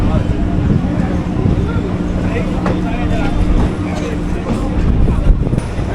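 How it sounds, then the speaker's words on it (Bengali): A moving local train out of Sealdah station rumbles and rattles steadily from inside the carriage, with people talking over the constant low clatter. "ট্রেন কিন্তু তার একদম নির্ধারিত সময় অর্থাৎ 7টা বেজে 14 মিনিটে শিয়ালদা স্টেশনে 17 নম্বর প্ল্যাটফর্ম থেকে ছেড়ে দিয়েছে"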